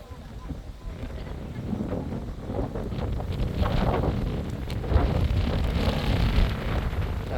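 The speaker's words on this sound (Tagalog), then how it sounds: "Grabe, sobrang lakas ng hangin." Strong wind buffets the microphone in rough, uneven gusts during an outdoor road bike criterium race, a loud rumbling roar that swells and dips over several seconds.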